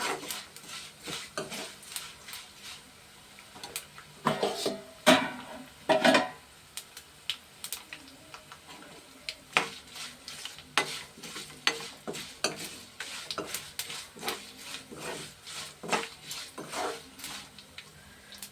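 Urad dal fries and is stirred in a pan until lightly browned, giving a steady sizzle broken by frequent clicking and scraping of the spoon against the pan, with no one talking.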